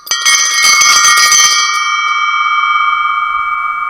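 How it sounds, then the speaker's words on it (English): Large metal bell with a broken, missing tine struck once, a bright clanging strike that rings on in a long sustained, slowly decaying tone, alone and close. "Then we have this bell. It's not perfect. It is missing a tine"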